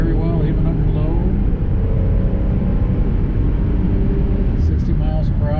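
A 1990 Buick Reatta pulls hard on a test drive, its engine note rising steadily and loud from inside the cabin with a shift in the pull, under a constant road roar and occasional faint speech.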